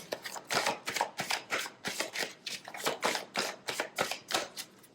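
A Lenormand card deck is shuffled and cut in quick, rhythmic bursts of riffling cards, close and crisp, repeating about three times a second with no talk.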